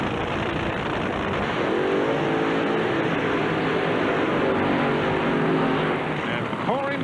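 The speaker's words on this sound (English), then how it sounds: "Now the burnouts for the Top Fuel finals." Top Fuel dragsters do burnouts at the NHRA US Nationals finals, a loud sustained roar of engines that fills the whole stretch.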